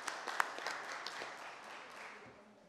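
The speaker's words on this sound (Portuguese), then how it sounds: "uma salva de palmas para esse homem, porque ele merece mesmo" At a city council plenary session honoring a professor, faint, scattered applause is heard from a room some distance away, with light claps that fade over a few seconds.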